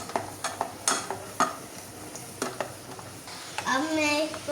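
Chopped tinda in a frying pan being stirred and mixed, with sharp scraping strokes and a soft sizzle beneath, close and moderately loud, while a voice speaks over it.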